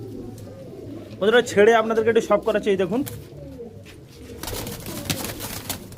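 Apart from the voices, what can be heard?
Madras pigeons cooing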